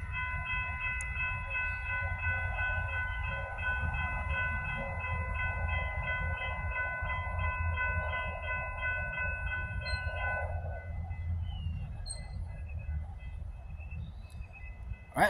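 Horns from an FEC freight locomotive and Brightline passenger trains sound in a long, sustained multi-tone blast over the rumble of a passing train, then cut off near the end.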